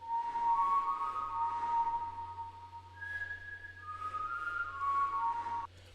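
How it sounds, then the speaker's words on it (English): A clear synthetic whistle sample in FL Studio plays a short melodic line with sustained tones, over a soft low hum, fairly quiet and alone. "that whistle sound is just the same thing as the flute melody"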